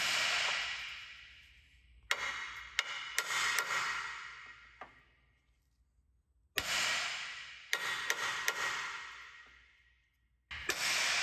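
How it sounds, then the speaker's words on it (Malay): Sharp metallic strikes of a hammer on a car's steering knuckle ring out in a few clustered bursts, each followed by a long, fading ring, with quiet gaps between the groups. "dengan tukul untuk tukul pada bahagian knuckle ini"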